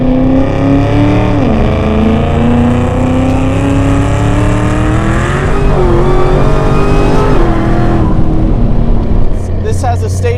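A car with a stage 2 built transmission accelerates hard, its engine note climbing through rising pitch sweeps with distinct shifts, loud and close throughout.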